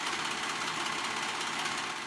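A sewing machine stitches a straight seam on a tank top, giving a steady, even whir that runs without a break for the whole span.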